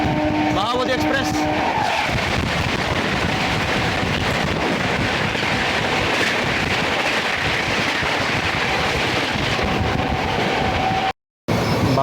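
The 12397 Gaya–New Delhi Mahabodhi Express passes close by, heard from a moving train's general coach as a loud, continuous rushing roar that fills the whole stretch.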